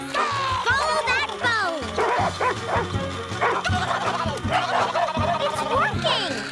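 Cartoon dogs from Olivia the Pig bark, yip and whimper excitedly while chasing a bone toward a dog wash, a busy run of close, loud barks over music with voices mixed in.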